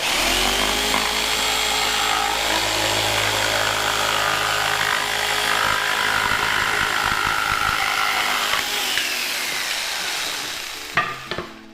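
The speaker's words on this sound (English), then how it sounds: "So I've been using this jigsaw and it's been working really good" A power jigsaw buzzes loudly and steadily while cutting thin cedar wood, its whine shifting slightly as the blade moves, then cutting off near the end with a few clunks of the tool being set down.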